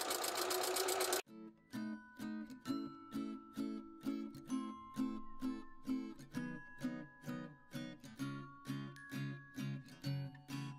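Sewing machine backstitching along a curtain hem, a loud burst of fast stitching followed by a steady run of short, evenly spaced rhythmic pulses, close and alone.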